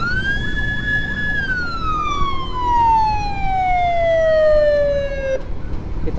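A loud, close electronic ambulance siren wails in a long descending sweep, then cuts off abruptly near the end, during an escort from Bekasi.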